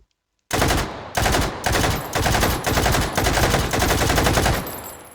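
VZ58 rifle fired in the video game Hot Dogs, Horseshoes and Hand Grenades: loud, close bursts of rapid automatic gunfire, several strings of shots running nearly unbroken after a brief silence, with no talking.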